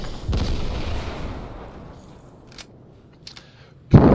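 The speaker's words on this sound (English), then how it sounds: "And I got people throwing grenades at me, so I know I'm back in the fight again." Grenades blasting in a Fortnite solo match, one heavy booming explosion at the start that decays over a second or so, then quieter pops and a second sharp blast near the end, with no talking.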